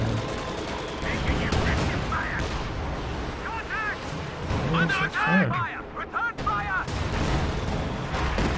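Katyusha rocket artillery firing in Company of Heroes 2 on field guns: a rapid series of booming launches and whooshing rocket streaks with crackling impacts, layered over battle noise while a commentator talks throughout.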